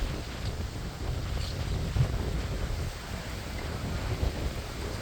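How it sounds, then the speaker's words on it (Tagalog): Strong wind buffets the microphone in a steady low roar, rumbling continuously throughout with occasional heavier gusts and no voices. "Pero mahangin lang guys ngayon."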